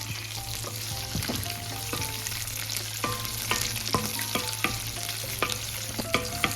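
Tamarind fries in a pan for a raw tomato chutney, a soft continuous sizzle with scattered spoon clicks and scrapes over a low steady hum, no one speaking.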